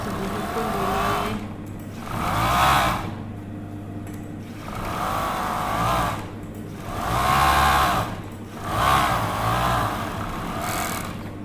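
A sewing machine stitches along the edge of batik trousers in repeated bursts of loud, close motor whirring. Each burst lasts a second or two, with quieter hum between them.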